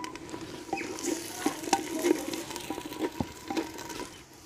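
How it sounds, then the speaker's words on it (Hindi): Crushed ginger goes into garlic already sizzling in a pot, giving a soft, steady fry under repeated close spoon stirs and metallic taps against the pot rim. "तो अभी ये भुन चुका है लहसुन हमारा, अब इसमें हम अदरक शामिल करते हैं,"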